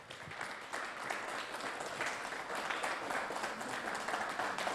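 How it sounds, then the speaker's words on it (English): A crowd applauds a second-place finisher at a touring car race at the Red Bull Ring, the clapping fairly faint but continuous and even throughout. "a huge round of applause with 138 race points, Luke Bennett."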